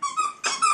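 A dog plays with a hot dog squeaky toy, giving two short, close squeaks with a brief gap between them, and no talking.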